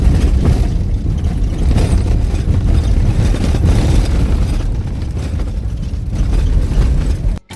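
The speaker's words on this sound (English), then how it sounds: "the sound of the car driving over rocks on the road" A safari vehicle on an unpaved road in the Maasai Mara jolts over rocks, producing a loud, continuous rumble of thuds and rattling bumps that cuts off abruptly at the end.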